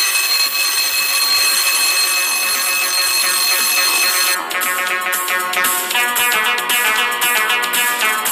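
An alarm clock rings at 5 a.m., a loud, continuous electronic ringing with piercing tones that shifts midway into a harsher, pulsing buzz and keeps going without a break.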